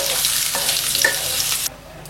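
Potato pieces frying in oil in a pan during Bengali home cooking, a bright steady sizzle with a few stirring scrapes that cuts off abruptly near the end, leaving a faint quiet background.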